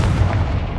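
The Confringo explosive spell in Hogwarts Legacy lands as a heavy, booming blast, a short, loud, low rumble with no talk over it.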